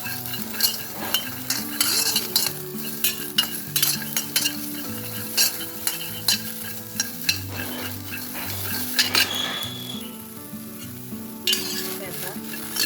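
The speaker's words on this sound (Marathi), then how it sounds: "सर्वप्रथम आपल्याला ते वटाणे भाजून घ्यायचे आहेत" Green peas are dry-roasted in a pan, with repeated scraping and rattling stirs, clinks of a metal spoon against the pan, and a faint sizzle between strokes.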